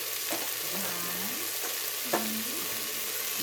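Seasoning salt and thyme being stirred into food frying in a pan, a steady close sizzle with a few soft scrapes of a spoon across the pan.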